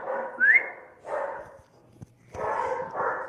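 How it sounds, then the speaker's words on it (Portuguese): Several dogs bark in short bursts close by, one giving a high whining yelp, with brief pauses between the volleys. "os cachorros começaram a latir"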